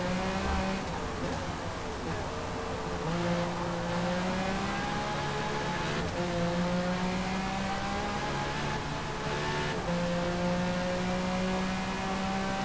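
A Porsche race car in Forza Motorsport accelerating hard, its engine whining upward through repeated gear changes with brief dips between shifts, loud and continuous.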